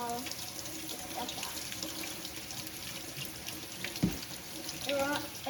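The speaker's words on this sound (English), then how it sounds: "We're rinsing all this fruit out." Tap water runs steadily into a sink while fruit is rinsed for a smoothie, a continuous near wash with a few brief splashes and knocks, and a person talks over it.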